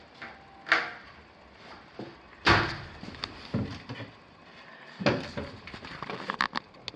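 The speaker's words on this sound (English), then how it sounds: "We've been having a time monkeying with this door" A household door with a gasket being worked open and shut during an appliance check, giving several sharp knocks, bumps and latch clicks spread across the clip, fairly close, with no talking.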